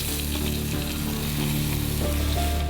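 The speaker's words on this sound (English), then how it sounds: "A sizzling pan first receives a portion of garlic" Garlic sizzles steadily in a hot frying pan at a Philippine street food stall, a continuous crackling hiss close up with no voices.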